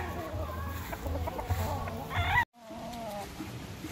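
Chickens and roosters cluck and call in a gamecock farm coop, several birds overlapping at moderate distance with steady background noise and a brief cut partway through.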